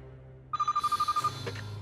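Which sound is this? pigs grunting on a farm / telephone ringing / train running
telephone ringing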